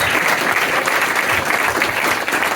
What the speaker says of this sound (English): I think Graeme needs a round of applause as well.